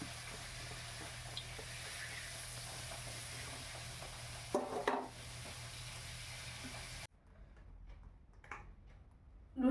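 Luchi puffing up in hot oil on a village kitchen stove, a soft continuous sizzle with faint bubbling and a brief louder crackle midway, then a quieter sizzle with occasional pops.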